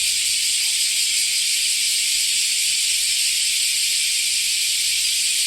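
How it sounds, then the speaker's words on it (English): A dense, shrill drone of cicadas in summer in Japan fills the air, constant and loud with no pauses, surrounding everything without any voices. "That very shrill noise is all cicadas. All cicadas."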